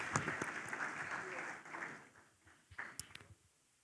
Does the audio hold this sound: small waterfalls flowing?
no